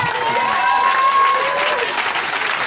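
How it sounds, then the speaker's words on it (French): Church congregation breaking into loud, sustained applause for Jesus during a Sunday service, dense clapping filling the space for the whole stretch with a faint murmur of voices mixed in. "Et puis tu acclames Jésus pour l'être ici."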